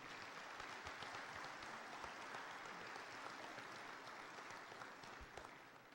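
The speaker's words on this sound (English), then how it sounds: "Let's give them another round of applause." Sustained applause from a fire and rescue association convention audience in a session hall, steady dense clapping throughout without speech.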